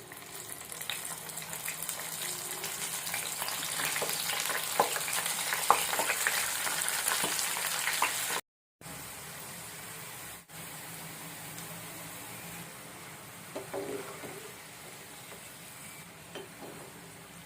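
Okra pieces frying in hot oil for bhindi kurkure, a steady close sizzle that runs for about eight seconds, cuts out briefly, then continues quieter with occasional stirring clinks and no voices.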